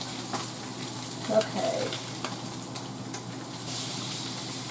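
Fish pan-roasting in a hot skillet with herbs and seasonings, giving a steady broadband sizzle and fry hiss throughout, with faint stirring scrapes and a brief spoken word.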